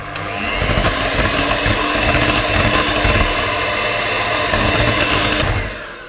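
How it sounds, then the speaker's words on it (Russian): An electric mixer whips chilled cream for a homemade curd cake, its motor giving a loud, steady whirring drone for about five seconds before cutting off, with no talking. "С холодильника достала. Взбиваю. Вот такой крем у меня."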